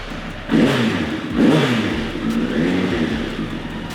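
A Suzuki Bandit 1200 motorcycle engine catches and is revved after carburettor work, loud nearby throttle blips rising and falling in two or three surges, then a steady idle, with no talking.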